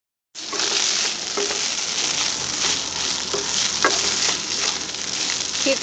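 Mashed boiled fish for patties fries in a hot pan with a steady close sizzle, broken by regular scraping stirs of a spoon, and no one talks.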